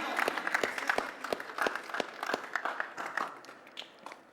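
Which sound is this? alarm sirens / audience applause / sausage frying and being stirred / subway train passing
audience applause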